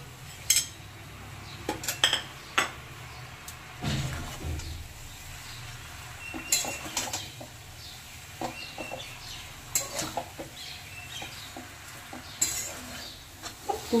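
Pumpkin greens and mixed vegetables stirred in a pan, quiet intermittent scrapes and metallic clinks of a utensil against the pan, spread out over a low background.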